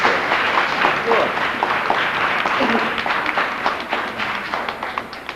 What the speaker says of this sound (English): Give her a nice big clap.